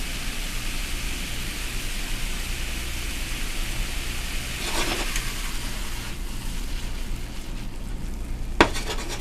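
Green chile chicken cooks in a pan with a soft, steady sizzle under a low background hum, plus a brief scrape or clatter near the end.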